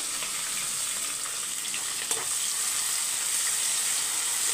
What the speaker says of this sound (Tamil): வெங்காயம் வந்து கொஞ்சம் வதங்கணும், பாதி வதங்கட்டும்.